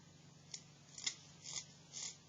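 A knife cuts into a pine branch during whittling, making four soft, short scraping slices spaced about half a second apart, close and quiet over a faint low hum.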